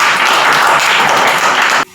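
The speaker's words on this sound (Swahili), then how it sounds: "Sasa mwapigie makofi waimbaji wenu." Audience applause for singers at a Swahili church gathering: dense, steady clapping from a crowd, loud and continuous, cutting off abruptly near the end.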